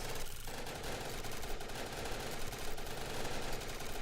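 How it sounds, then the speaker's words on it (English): Deployed turrets in a video game fire continuously, a dense, loud stream of rapid automatic gunfire that fills the whole stretch without pause. "Throw down all my turrets."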